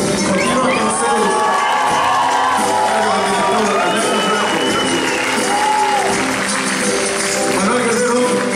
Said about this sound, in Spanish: Obviamente el aplauso para la orquesta Líder Fuerte Sable